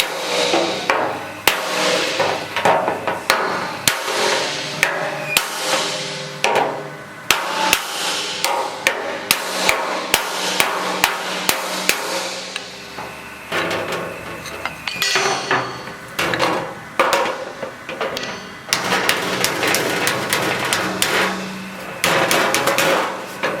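Steady, loud metallic hammer blows knocking dents out of a Scout 800 steel fender, rapid clanging strikes in bursts with brief pauses, close up.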